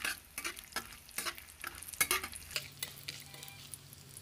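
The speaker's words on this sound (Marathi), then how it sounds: "हे ड्रायफ्रूट आपल्याला कमी गॅसवरच परतून घ्यायचे आहे" Dry fruits, raisins among them, fried in ghee over a low flame as a spatula keeps turning them: a run of crisp scrapes and clacks against the pan over a steady faint sizzle, with no one talking.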